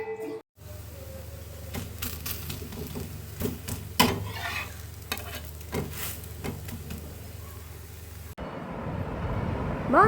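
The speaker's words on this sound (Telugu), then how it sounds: "ఇప్పుడైతే రాగి దోశ చేస్తున్నా." Ragi dosa batter sizzles on a hot pan in a home kitchen: a steady frying hiss broken by bursts of scraping and stirring over a low hum, with a louder, noisier sizzle at the end.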